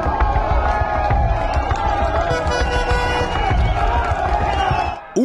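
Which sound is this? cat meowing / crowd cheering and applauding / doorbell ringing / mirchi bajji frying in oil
crowd cheering and applauding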